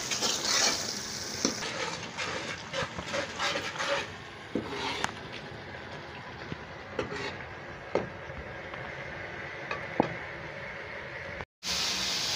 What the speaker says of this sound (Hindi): पहले चिबड़ों को अच्छी तरह भूनेंगे